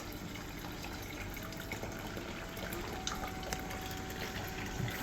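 Water runs steadily through a homemade sluice box during a gold clean-up, a constant broadband rush and gurgle that stays even and close throughout with no talk.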